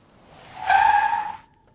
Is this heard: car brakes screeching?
yes